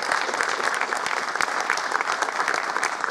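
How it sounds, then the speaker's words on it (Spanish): Steady audience applause at a community football recognition event, dense clapping holding at an even level throughout with no voices over it. "Un aplauso para ella."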